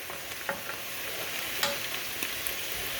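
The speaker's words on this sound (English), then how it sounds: "liquid is starting to cook off" Chanterelle mushrooms dry sautéing in a pan as their liquid cooks off, giving a steady close sizzle with a few soft stirring clicks and no voices.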